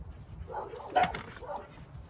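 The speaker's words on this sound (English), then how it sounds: "Oh, the dogs have something to bark at." Dogs barking at a moderate distance, with a few short barks and one sharper bark in the middle over low background rumble.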